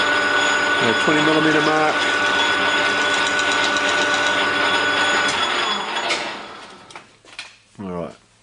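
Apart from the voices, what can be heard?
lathe running, turning PVC barrel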